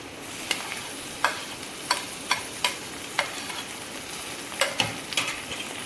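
Tomatoes sizzle as they fry with onions for aloo palak sabzi, with a spoon scraping and clacking against the pan in irregular strokes over a soft, steady frying hiss, heard close up.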